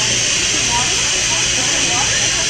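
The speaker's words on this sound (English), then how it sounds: "we could hear the steam of the boat" Steam hissing from the RMS Titanic in an immersive simulation of its last night, a loud, steady, dense hiss filling the whole moment without pause.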